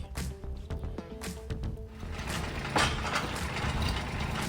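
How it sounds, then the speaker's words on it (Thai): Small B2440S tractor engine running with a steady low diesel rumble that stays fairly constant and moderately close throughout, with some clattering and brief mechanical noise on top and no speech. "เครื่องยนต์ก็ติดง่ายนะครับ"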